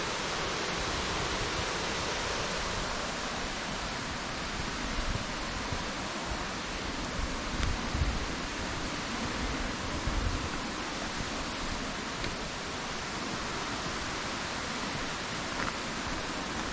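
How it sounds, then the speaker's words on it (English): Steady, dense rushing of waterfalls heard from a narrow mountain trail under a forest canopy at dusk, a constant broadband roar with no pauses or voices. "Leading down to some waterfalls."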